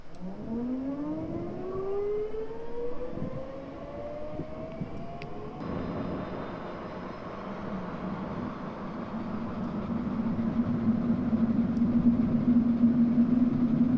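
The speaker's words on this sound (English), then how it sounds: "start the engine, and to do that we're going to go clear prop" A T-6A Texan II turboprop engine spins up in FSX, a rising whine climbing steadily in pitch over several seconds before settling into a loud, steady turbine drone that grows stronger toward the end.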